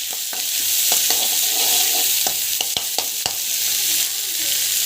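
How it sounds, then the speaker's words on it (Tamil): Onions sautéing in a pan for a summer peerkangai (ridge gourd) curry, with a steady close sizzle and scattered scraping stirs of a spoon against the pan, no voices. "மேக்ஸிமம் வந்து அந்த கலர் வந்து சேஞ்ச் ஆகிற வரைக்கும் வந்து வதக்கிக்கோங்க"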